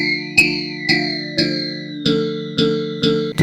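Korg Electribe EMX-1 groovebox playing a repeating synth riff through its distortion effect, gritty buzzing notes struck about seven times at a steady pace over a sustained low tone, loud and up front, with no one talking.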